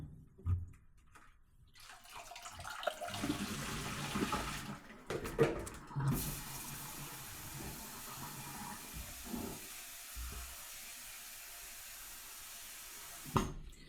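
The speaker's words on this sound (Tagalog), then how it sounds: "Papalitan na natin yung tubig niya." Water pours and splashes as the soaking water is changed on thinly sliced carrots and purple cabbage for a salad, with a running, tap-like flow and brief splashes and clinks of handling in a quiet kitchen, no talking.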